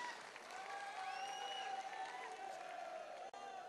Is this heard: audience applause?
yes